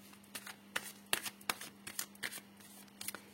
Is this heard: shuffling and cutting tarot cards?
yes